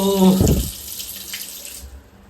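Water gushes loudly from a bathroom tap after a blocked pipeline is cleared. There is a short, strong splash at first, then the flow thins and fades away.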